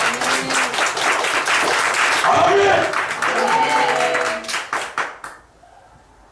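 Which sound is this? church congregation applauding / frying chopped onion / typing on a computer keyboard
church congregation applauding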